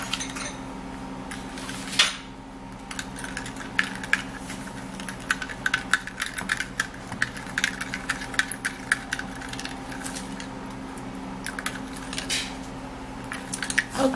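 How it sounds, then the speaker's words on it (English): Something gets stirred with sugar in a bowl, giving soft irregular scraping and clinking taps that repeat for several seconds at a low level with no voices. "we're going to mix this a whole lot and mix this really well"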